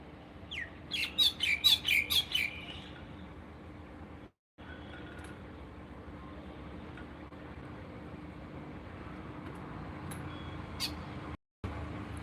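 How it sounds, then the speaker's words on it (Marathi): A bird gives a short burst of rapid, repeated chirping calls near the start, followed by quieter background ambience with a few faint chirps later. "हा पक्षी ना माझं नाव घेतो"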